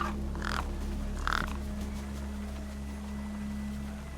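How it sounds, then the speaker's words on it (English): Crows cawing near a corpse propped against a rock in the video game Beyond a Steel Sky, a few short harsh calls early on over a steady low game ambience hum. "The gang birds were eyeing up the corpse hungrily."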